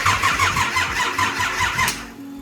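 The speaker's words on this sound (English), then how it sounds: "Yeah, we'll see if this starts." A Nissan C33 Laurel's newly fitted engine cranks with a rapid rhythmic starter churn for about two seconds, then catches and settles into a low idle, loud and close.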